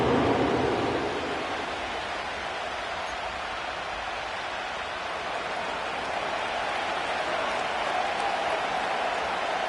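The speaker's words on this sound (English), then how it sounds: "The crowd is definitely ready." A large stadium crowd roars steadily at SoFi Stadium in Inglewood in an EA Sports NFL game, a broad continuous wash of cheering noise, slightly louder at the start.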